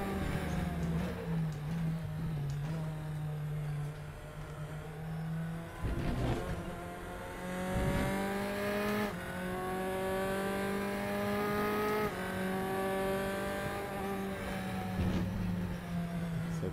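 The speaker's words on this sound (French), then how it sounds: "Pas mauvais son, ce petit moteur là." A Formula 4 Tatuus race car engine in Raceroom Racing Experience whines and climbs through gears, pitch rising and dropping repeatedly with sharp shifts, steady and loud throughout.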